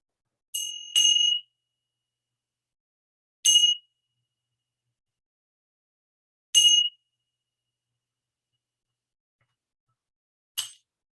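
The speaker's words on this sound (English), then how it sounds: "I'll ring the bell to officially start us." A meditation bell is struck four times at a slow, uneven pace, each a bright, clear ring that decays quickly into silence, the last one softer, with no voices in a quiet room.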